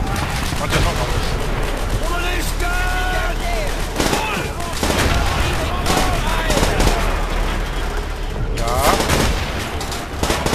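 Dense, continuous gunfire and bursts of automatic weapons in the Call of Duty World at War video game, loud and close throughout, with occasional heavier blasts mixed into the battle.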